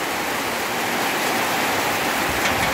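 Heavy rain pouring down in a village in Asahan, a dense, even roar of falling water that stays loud and constant throughout with no voices.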